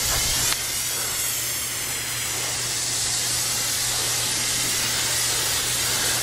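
Steady, loud hiss of a spray aimed at charcoal in a grill, continuous and close, broken only by a brief stronger burst near the start and a low steady hum beneath.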